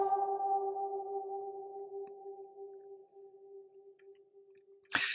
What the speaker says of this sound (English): So bright reverbs, like the one you would have in a bathroom